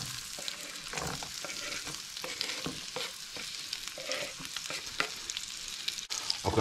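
Onion fries in a pan of meat drippings with a constant, lively sizzle and spatula scrapes stirring through it, close and steady throughout.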